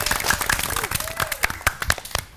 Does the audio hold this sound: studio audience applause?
yes